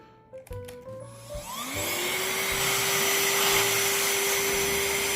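A Shark vacuum cleaner motor whines up to full speed and runs steadily and loud, cleaning up drilling debris, preceded by a few brief clicks and knocks.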